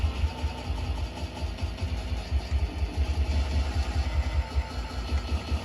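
Motorcycle engine from a classic arcade-style racing game, a steady mid-pitched drone holding at a constant level throughout with a faint rattly texture and no talk.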